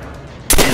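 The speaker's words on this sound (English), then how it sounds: "Very good shooting, comrade!" Burst of gunfire in the Call of Duty zombies mode Nacht der Untoten, erupting suddenly and loudly after a quiet stretch and sustaining as dense rapid shots.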